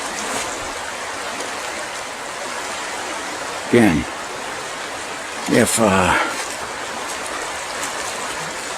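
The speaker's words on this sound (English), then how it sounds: "we're gonna back away from the noise of the water" A stream's rushing water keeps up a steady, close, broadband hiss throughout, while a person briefly speaks over it.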